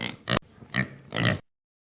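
A fat pig in a spoken story grunts and oinks in three short bursts, close and clear, then silence.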